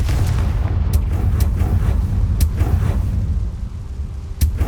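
Confringo blasting spell in the video game Hogwarts Legacy, a loud booming blast with rumbling low end and several sharp cracking bursts, the last one near the end, with no talking over it.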